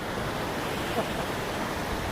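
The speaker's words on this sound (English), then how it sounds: "you can hear me okay above the fast water here on the River Camel" Fast water rushing along the River Camel near Bodmin, a dense constant broadband roar close to the microphone with no breaks or voices.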